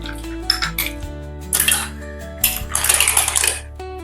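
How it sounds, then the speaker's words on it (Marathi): Clams dropped into a metal cooking pot for a spicy clam curry, giving several bright clattering rattles of shells hitting metal in quick bursts, close and loud with ringing pauses between. "इथे मी सर्व तिसऱ्या टाकल्या"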